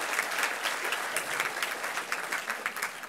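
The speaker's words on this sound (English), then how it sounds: "Round of applause, please," Audience applause at a community innovations showcase, a fairly faint but steady patter of many hands clapping throughout, without speech over it.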